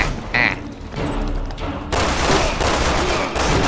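Gunfire in Resident Evil 6, rapid bursts of loud, close shots running almost continuously with a heavy boom partway through, no talking.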